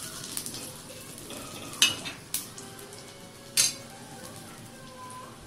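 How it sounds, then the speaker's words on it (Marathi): Pre-roasted green chillies sautéed in oil in a pan, a soft continuous sizzle with a few sharp spoon-on-pan clinks spaced seconds apart, close but fairly quiet, no voices. "मिरच्या अगोदरच भाजलेल्या होत्या, त्यामुळे त्या नुसत्या तेलावरतीच परतून घ्यायच्या आहेत."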